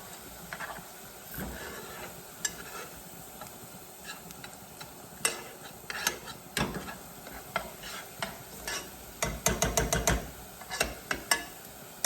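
Ginger and onion fry in a pan under a steady soft sizzle while a utensil stirs and scrapes, giving irregular clicks and knocks that cluster into a quick rattling burst toward the end.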